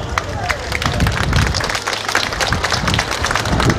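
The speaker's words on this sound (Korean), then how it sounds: "큰 연호와 박수 부탁드리겠습니다" A crowd claps and cheers at an outdoor election campaign launch rally, a loud continuous wash of hands and voices up close with no single speaker standing out.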